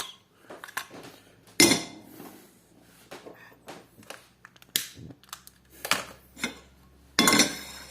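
Metal skillet clattering onto a stovetop for grilled cheese, several sharp bangs and rattles of cookware scattered through the clip, the loudest near the middle and end.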